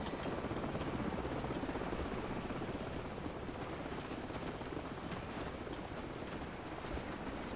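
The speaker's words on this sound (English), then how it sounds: "Hold on, the helicopter's back." A helicopter in the video game Call of Duty 4: Modern Warfare roars in a constant loud rotor wash that fills the whole stretch without pause, no voices over it.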